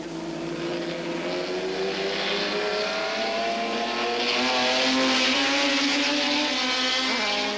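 A Lister Jaguar race car with a 3.8-litre Jaguar engine of about 290 horsepower roars steadily at high revs, a loud, continuous rasping drone that rises slightly in pitch as it passes close by.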